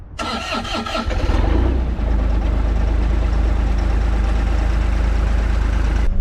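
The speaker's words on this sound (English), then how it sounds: "now I can start it" The engine of a Bobcat E42 R2 mini excavator cranks briefly, catches within about a second and settles into a loud, steady diesel idle up close.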